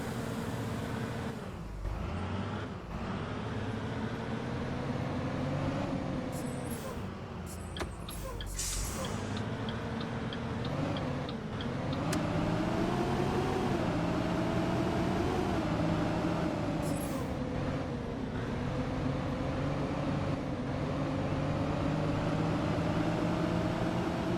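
A loud, steady Cummins diesel bus engine drones with a broad cooling-fan roar as the bus drives and gradually speeds up, with brief rattles and clunks along the way.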